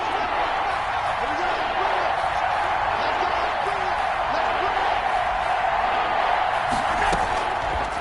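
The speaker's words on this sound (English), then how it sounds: "The crowd getting into it as we come up on a big 3rd down." Football stadium crowd roaring steadily ahead of a big third down, a dense continuous wash of cheering and noise that holds at a constant loud level throughout, with faint voices mixed in.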